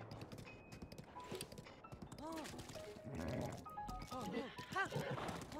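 Hooves of a horse galloping in The Legend of Zelda: Breath of the Wild, a steady clip-clop rhythm with game music and an occasional whinny, under continuous excited talk from a player.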